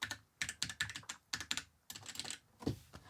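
Keys are pressed on a new Amiga A1200NET mechanical keyboard fitted with original replacement keycaps, bursts of quick crisp clicking clacks in irregular clusters, close but quiet.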